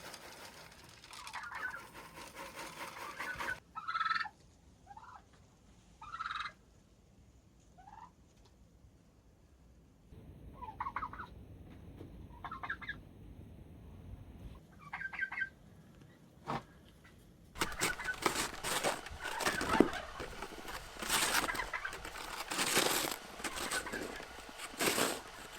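Turkeys gobble repeatedly in a barn during frigid winter feeding, their calls coming in scattered bursts near and mid-distance, followed by a dense rustling of movement and bedding.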